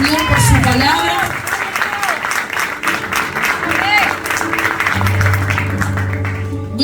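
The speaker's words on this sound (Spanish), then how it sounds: "¿Qué le parece darle un aplauso al Señor por su palabra?" A church congregation claps together in sustained applause, loud and fairly close, with voices calling out over the clapping.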